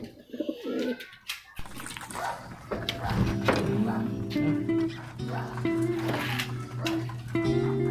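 Pigeons coo steadily inside a pigeon loft, their low rolling calls close and repeated after a brief rustle at the start, with some faint voices in the background.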